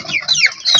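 Chickens in a poultry house during the rainy season make three quick, high-pitched clucks in close succession, sharp and close to the listener, with no talking.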